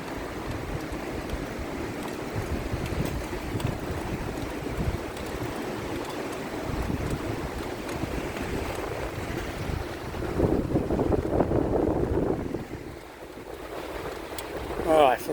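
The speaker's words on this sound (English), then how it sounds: "Oh, I forgot about the wind." Wind roars and buffets against the microphone throughout a railcar ride across a 90-foot train trestle in Hadley, New York, a steady rushing noise that swells briefly near the end.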